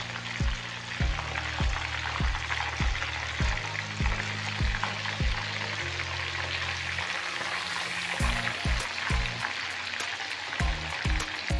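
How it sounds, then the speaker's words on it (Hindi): Baby pomfret fish fry in a pan of oil over a high flame, a continuous loud crackling sizzle with a regular series of sharp ticks and pops along with a low hum underneath. "आज हम फ्राई कर रहे हैं pomfret fish, baby pomfret fish"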